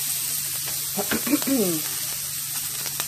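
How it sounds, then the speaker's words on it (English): Onions and green peppers sizzling in a hot wok, a steady soft hiss of frying with a few brief stirring scrapes and clatters, moderately quiet. "So I put the onions, green peppers,"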